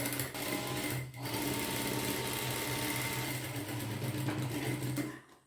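Close sewing machine stitching fabric for a garment runs in a fast, steady whir, pausing briefly once, then resuming before stopping at the end.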